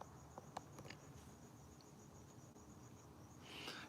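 Crickets chirping outdoors on a warm late-summer night, a continuous high, faint trill with a few scattered soft clicks and a brief rustle near the end, no talk.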